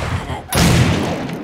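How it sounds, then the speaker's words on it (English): A shotgun fires once in the survival video game 7 Days To Die, a single loud, sharp blast with a short rumbling decay that follows a brief stretch of lower background game noise. "I think I'm just gonna start blowing their faces off with the shotgun"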